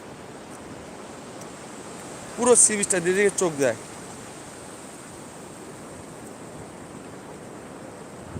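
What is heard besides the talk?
sea waves washing onto beach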